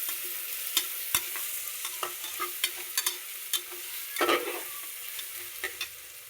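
Coarsely hand-crushed ginger-garlic paste fries in a pan while a spoon stirs it, giving a continuous soft sizzle punctuated by sharp scraping taps and clinks at an uneven rhythm, close by.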